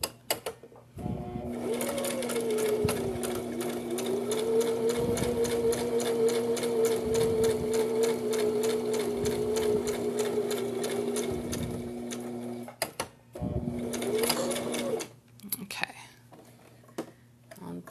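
A sewing machine stitches a seam with its needle starting in the fabric, a steady loud mechanical whir running for about twelve seconds, then a short second burst, with quiet talk and whispering in the background.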